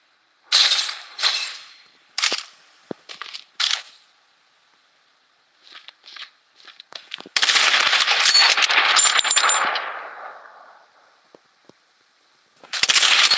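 Automatic gunfire in the battle royale shooter Blood Strike, with short loud bursts early on, a long sustained barrage in the middle, and a final burst at the end, no talking.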